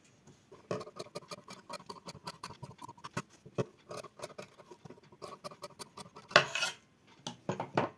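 Scissors snipping through collar fabric in a row of quick, close, crisp cuts with short pauses between bursts, ending in a louder cluster of snips, with no speech.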